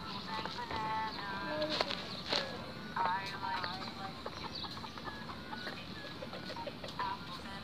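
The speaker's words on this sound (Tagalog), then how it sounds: "Nami diri sa manok na pula." A red chicken on a farm clucks repeatedly in short bursts, close and moderately loud, with other fowl calling in the background.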